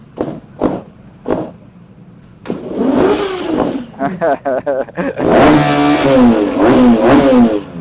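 A KTM 1290 Super Adventure S motorcycle in the last stage of engine break-in gives a few sharp clicks, then repeated throttle revs and a long, loud rising roar up close.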